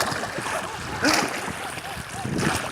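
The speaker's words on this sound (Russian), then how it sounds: "Что-то на веслах осталось до поворота доплыть." Oars dip and splash as a boat is rowed along a river, with irregular water sloshes and splatters close by while people talk over it.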